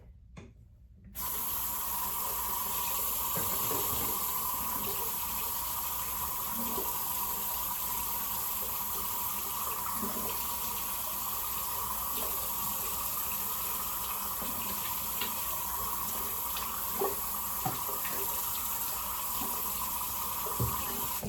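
A tap runs steadily for over twenty seconds, rinsing off during a shave, a close, constant stream of water into a sink with faint clinks and splashes, and no talking.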